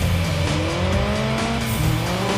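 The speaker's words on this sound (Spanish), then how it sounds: "¡Derrape de 3 segundos!" Drifting car in the racing game Juiced 2, tires squealing in long sliding streaks over a steady, loud engine drone, the skid sustained for a couple of seconds with rising pitch at the end.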